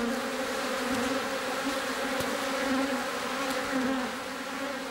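Bees buzz continuously in a dense, steady drone, many insects humming together at close range.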